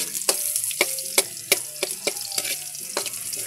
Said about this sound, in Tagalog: nilagay na natin ang sibuyas. Antayin lang natin mag golden brown